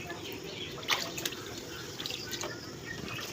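Floodwater of a swollen river flows past in a continuous broad rush, with a few brief splashes rising above the steady wash of water.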